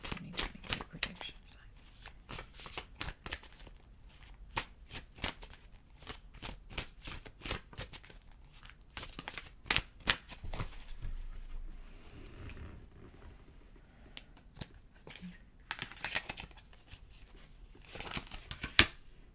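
Tarot cards are shuffled close by in a quiet room, giving soft riffling and sharp flicking bursts scattered irregularly over a long stretch, with quiet gaps and faint sound between them.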